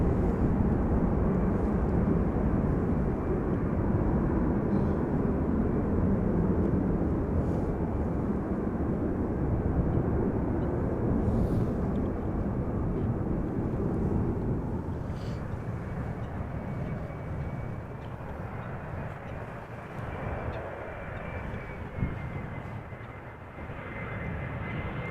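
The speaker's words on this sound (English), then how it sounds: "Arriving from the east is a KLM Embraer 175 arriving from Zurich." A KLM Embraer 175 airliner arriving at Amsterdam Schiphol passes with a broad, steady jet roar that is loud at first, then gradually fades and thins as it moves away.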